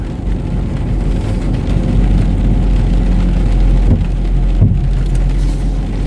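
Storm rain pours steadily, a dense, loud wash of drops drumming on surfaces with a low rumble underneath, continuous throughout.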